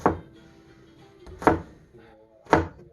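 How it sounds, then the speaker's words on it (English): A knife chops an onion on a board, three sharp, separate thunks spaced about a second apart, close and fairly quiet. "So I'm just going to keep on chopping."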